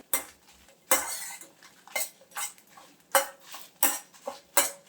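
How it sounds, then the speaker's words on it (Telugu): Dried red chillies frying in a pan come through as a run of loud, rhythmic metallic scrapes and clatters from stirring, about one every half second, over a soft background sizzle. "ఈ ఎండుమిరపకాయలని మాడకుండా ఫ్రై చేసుకోండి"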